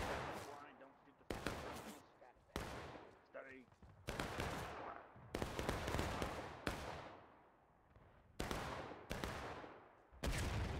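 Musket volleys in the American Civil War game War of Rights, a series of loud, sharp cracks about once a second, each trailing off in a long rolling echo, with faint talk heard in places.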